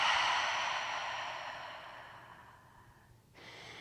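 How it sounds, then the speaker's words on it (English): A long, soft exhale during a yoga session, close and breathy, tapering away over several seconds before a faint new breath begins at the end. "breath out."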